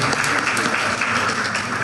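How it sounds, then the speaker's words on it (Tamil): Dense, steady audience applause fills the room after a devotional music concert at a Hindu temple festival, a continuous wash of many hands clapping without pause. "அவர்களுக்கு உங்களுடைய கரகோஷத்தை வழங்குமாறு வேண்டிக் கொண்டு"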